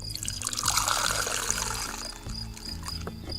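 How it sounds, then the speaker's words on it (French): Fermented nettle manure runs from a tap into a glass held a short distance below, a steady close splashing trickle that continues without pause, no talking over it. "Je place mon verre à 15-20 cm sous le robinet"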